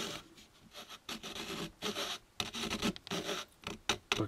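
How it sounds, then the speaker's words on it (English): A small hobby saw cuts a plastic model kit part, a U.S.S. Enterprise kit. It makes quiet, close rasping strokes in short uneven bursts with brief pauses between them, with no talking. "what I'm trying to do here is done, is to cut down to the edge of the neck"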